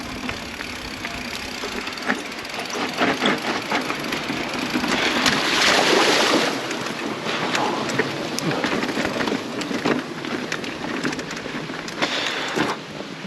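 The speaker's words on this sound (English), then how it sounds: "See if I can get this river crossing." Mountain bike crossing a rain-swollen river on a Napa County trail, water splashing and rushing around the wheels in a continuous loud wash with rattling clatter, rising in the middle of the crossing.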